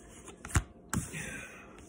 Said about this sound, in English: Y'all are hearing me shuffle these cards